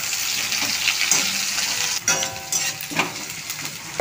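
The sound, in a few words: garlic and chopped onion frying in oil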